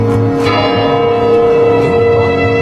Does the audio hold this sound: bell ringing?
yes